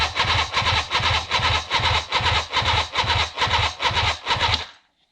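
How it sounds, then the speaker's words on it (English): Suzuki GT750 motorcycle starter cranking in rapid, even pulses, about two per second, loud and close, grinding on without catching before cutting off to silence. "I'm going to hit the engine start button, see what happens here"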